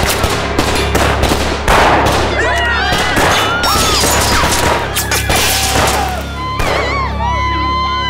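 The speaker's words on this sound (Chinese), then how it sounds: "朝城楼上那个铜锣开枪！" Rapid gunfire aimed at a bronze gong on a city gate tower, a dense barrage of loud, sharp shots with ringing metallic tones between them, and voices shouting under the noise.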